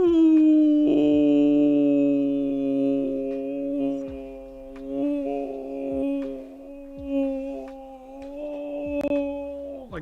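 A person imitates a dog howling with a sustained, wavering voiced tone that rises and falls over about ten seconds, loud and close.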